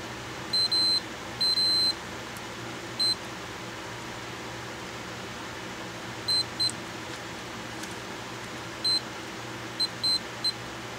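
A multimeter continuity tester beeps while probing the gears of a Lionel 227 or 701 model switcher locomotive, giving several short, high electronic tones, some single and some in quick pairs, against a faint steady hum and no talking.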